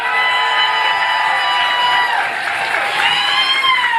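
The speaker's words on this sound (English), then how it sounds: "Let's give them a round of applause." Audience applause and cheering at a live political show, a dense steady wash of clapping with whistles and shouts from a crowd.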